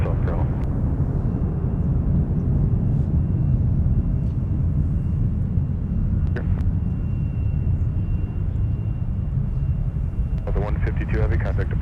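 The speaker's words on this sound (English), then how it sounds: "you could certainly feel the power as 152 heavy thundered down 12 right" A heavy jet airliner thunders down runway 12 right on its takeoff roll at Minneapolis–St. Paul airport, a dense, sustained roar that stays loud throughout, with radio chatter and talk over it.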